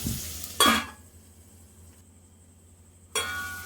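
Onions frying in a covered pan give a soft, steady sizzle, broken by two loud clattering bursts as the lid is lifted or the pan is stirred, once near the start and again at the end.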